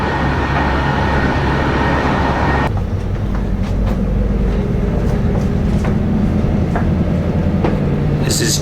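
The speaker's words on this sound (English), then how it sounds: "This is train number 4 of my 4 train journey." Steady low rumble of a train in motion from Hof to Dresden in Saxony, Germany, heard from inside a carriage, with rattling and occasional clicks over the tracks; no one speaks.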